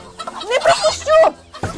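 Chickens being chased in a yard cluck and squawk in short, sharp bursts, loud and close, a few agitated calls in quick succession.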